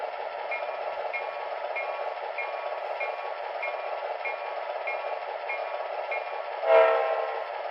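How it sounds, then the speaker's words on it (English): An MTH RailKing SW1500 model locomotive plays a sound sequence, a steady electronic diesel hum with a regularly repeating bell-like tone, then a short loud horn blast near the end. "now let's do the PFA sequence"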